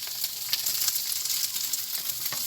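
Food sizzles steadily in a hot frying pan as it is flipped, giving a soft, continuous crackling hiss at close range, with no talking.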